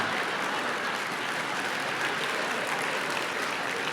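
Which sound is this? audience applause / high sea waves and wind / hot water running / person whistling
audience applause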